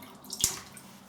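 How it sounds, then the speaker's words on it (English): Shaving brush dipped into a bowl of cold water, giving a single soft splash and drip near the middle, close and faint, with no talking. "I have in my bowl next to me, I have some cold water. I'm just dipping my brush in"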